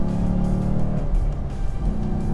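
Chevrolet Camaro SS 1LE V8 on a race track heading into a corner, a close, fairly loud engine note that holds steady then drops and shifts as the car reaches the turn.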